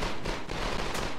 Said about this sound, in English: Lots of weapons firing off all around here